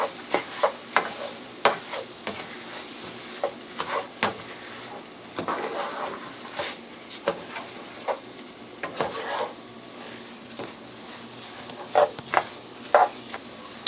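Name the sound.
stirring rice frying in a pan for risotto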